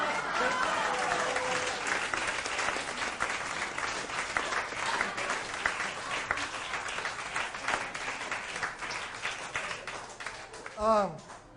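Audience at a magic night in Atlanta applauds two volunteers, a sustained, fairly soft wash of many hands clapping, with a voice and a brief whistle-like sweep near the end.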